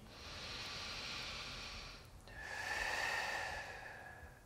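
Deep yoga breathing heard up close: a long soft exhale, a brief pause, then a second airy breath with a hissing edge, quiet and alone with no talk.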